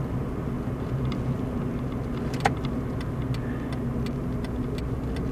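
A car cruises along a 50 road at steady speed, giving a constant low engine and tyre rumble from inside with faint regular ticking, like a turn signal, and one brief sharp click midway.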